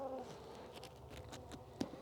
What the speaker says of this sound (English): You hear a drone flying around.